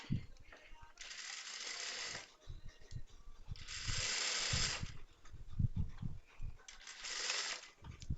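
A sewing machine runs in three bursts, each followed by a pause, as it stitches the shoulder seam of a blouse. Soft handling noises fill the gaps between the bursts.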